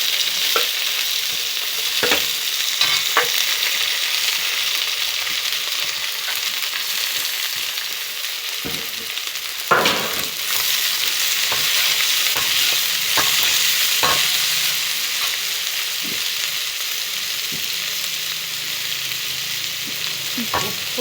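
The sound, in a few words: onions and green chillies sautéing in a pan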